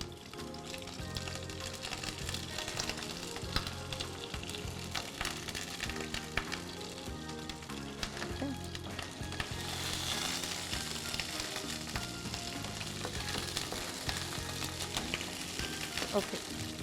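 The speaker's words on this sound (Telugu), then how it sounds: "ఇవన్నీ వేసి చక్కగా వేగుతున్నాయి" Dried red chilies, whole garlic cloves and curry leaves sizzle in hot oil in a pan with a steady, moderate crackle, partly masked by background music that runs throughout.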